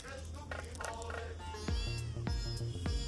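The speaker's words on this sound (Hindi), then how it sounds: "ये लगता है मेरे को बिल्ली काफी भूखी लग रही है" A hungry cat meows several times, close by, with rising and falling cries in a quick series, over a low background hum and faint voices.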